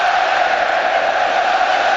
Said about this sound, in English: The crowd respond, they love this inter-blue passing